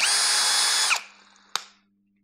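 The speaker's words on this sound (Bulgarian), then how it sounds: "Това е на пробиване." A TOTAL 3-in-1 cordless drill runs in drilling mode, a loud steady high whine that winds down over about a second. A short click follows and the motor coasts to silence.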